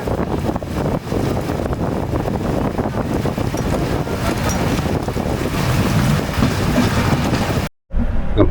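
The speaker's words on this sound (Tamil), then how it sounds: "It's raining there." Heavy rain pours near Jolarpettai junction in a loud, continuous broadband roar with gusty wind buffeting the microphone. It cuts out abruptly for a moment near the end before resuming, and no one speaks.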